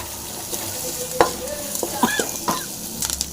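Onion masala with salt and coriander frying in a pan, a constant close sizzle broken by stirring scrapes and spatula clinks against the pan.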